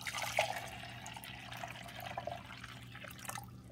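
A vinegar and water mix is poured into the reservoir of a Mr. Coffee 5-cup programmable mini coffee maker, a faint, steady trickling splash over a low background hum.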